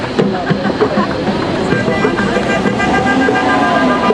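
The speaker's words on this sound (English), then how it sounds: "Why are all these people honking?" Car horns honk repeatedly amid dense street noise and traffic at a city hall street protest in Philadelphia, with crowd voices mixed in, loud and continuous.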